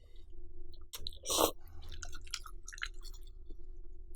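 Someone eats Jin ramen with seaweed in a close, crunchy and wet chewing sequence, with soft bites and mouth noises repeating steadily and no talking.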